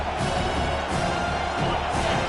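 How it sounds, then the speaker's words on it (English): A large college football stadium crowd roars steadily throughout, a dense continuous wall of cheering and noise with slight surges, no pauses. "Listen to this crowd just shaking the girders of this place, trying to help their defense."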